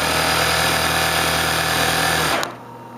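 An industrial sewing machine set to about 2,500 stitches per minute runs at high speed with a loud, steady buzzing whir for a few seconds, then stops abruptly, leaving near silence.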